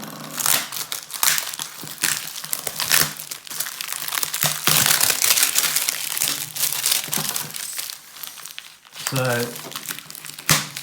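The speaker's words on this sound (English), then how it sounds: "Let's unwrap it and see what we got." Plastic packaging crinkles and crumples continuously as a desk tidy shipped from Banggood in China is unwrapped close by, with brief speech partway through.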